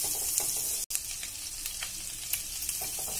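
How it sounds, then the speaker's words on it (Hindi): Garlic sizzles in butter on a hot tawa with a steady, dense frying crackle and hiss, close and moderately loud, and no voices over it. "सबसे पहले हम इसमें गार्लिक डालेंगे"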